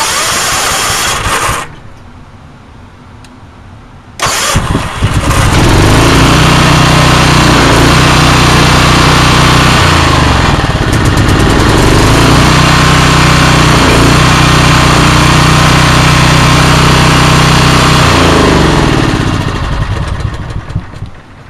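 4KW generator engine in cold weather, very loud and close: a brief rough start, a sharp cut, then it fires up again and runs steadily at a constant rumbling drone.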